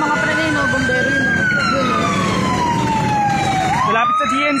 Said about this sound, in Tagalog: bumbero yun.